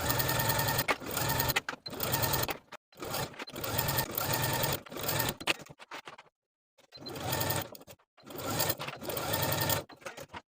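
Sewing machine stitching a sweater-dress underarm seam along a 5/8-inch allowance, running in several steady whirring bursts separated by brief pauses, close and fairly quiet with no talk.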